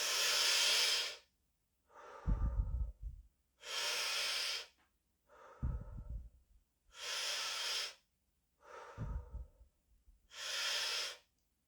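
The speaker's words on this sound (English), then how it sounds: "So if I do the inhale, I can do the inhale slowly." Slow, deep breathing in a quiet room: four long, airy breaths alternate with softer, rougher breaths, evenly spaced and close to the microphone, with no talking.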